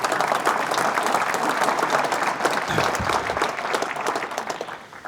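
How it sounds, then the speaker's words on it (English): An audience at a city address breaks into sustained applause, a dense wash of many hands clapping that holds steady before gradually tapering off at the end. "you can applaud that really,"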